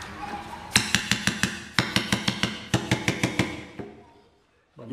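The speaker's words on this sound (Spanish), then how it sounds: "Vamos a darle con el martillo." A hammer strikes a metal grommet setting tool in three rapid bursts of sharp, ringing, metallic blows, four to six hits per burst, close and loud, with brief pauses between and no talk.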